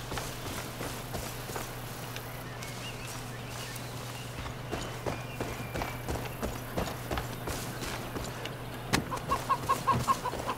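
Chickens cluck in the Far Cry New Dawn video game, with short, repeated clucks and faint hoof-like clip-clop ticks over a steady low hum, growing busier near the end.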